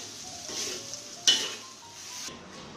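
Dried shrimp belacan stir-fried in a wok gives a steady, close sizzle with soft stirring scrapes and one sharper clatter midway, then the frying quiets slightly near the end.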